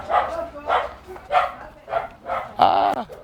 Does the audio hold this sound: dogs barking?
yes